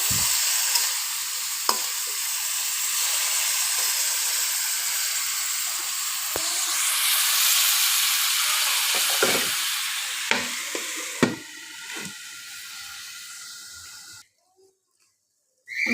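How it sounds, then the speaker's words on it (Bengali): Green chilies frying in a pan with egg and kaitha hiss in a steady, loud sizzle with scraping stirs, then cut to near silence just before the end. "কাঁচামরিচ কয়েকটা একটু নেড়ে চেড়ে নিয়ে আমি এটাকে ঢেকে দেব"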